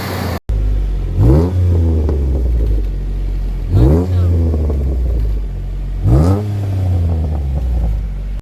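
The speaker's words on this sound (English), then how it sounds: "we'll just start the engine and you can hear the V6 roar into life" A 2010 Jeep Wrangler Sahara with a lifted stance and V6 engine revs three times in loud, close bursts, each rising sharply then falling back to a deep steady rumble between.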